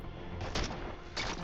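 Two sharp gunshot bursts crack out in the tactical roguelite game Every Day We Fight, the first loud and abrupt, the second following about half a second later over a steady low background.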